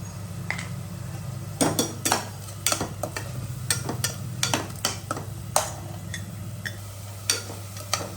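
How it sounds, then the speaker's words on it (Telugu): Onions cook slowly in a pan over a low flame for a mutton curry, with a soft background sizzle broken by sharp, irregular clinks and scrapes of a utensil against the pan. No voices are heard. "స్టవ్ సిమ్లో పెట్టండి. ఉల్లిపాయ బాగా మగ్గాలండి."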